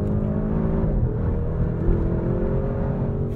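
A 2024 Porsche Cayenne Turbo GT's engine hums loud and steady as the SUV attacks the corners of a winding road, its pitch sweeping slightly up and down, heard from inside with no talking.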